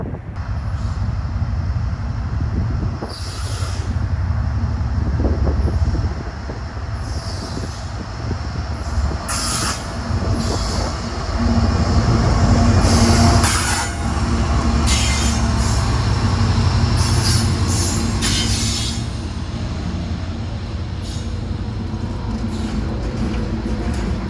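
CSX freight locomotives pass on the Lehigh Spur, a loud, close, continuous rumble of heavy rail cars with rhythmic wheel clatter and intermittent high squeals from the wheels.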